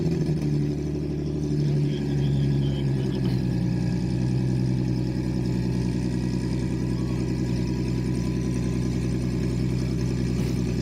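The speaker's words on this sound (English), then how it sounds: "That is a 2JZ 6-cylinder Toyota engine. You can hear that turbo." A Toyota 2JZ six-cylinder turbocharged engine runs at Speedweek 2025, a close, steady low droning rumble with a faint higher whine as the turbo spools, holding an even level throughout with no talk.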